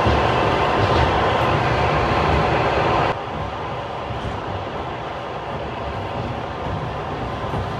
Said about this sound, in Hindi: चलो अंदर ट्रेन में बैठते हैं।